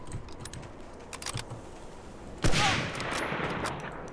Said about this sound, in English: There's a machine gun out there somewhere.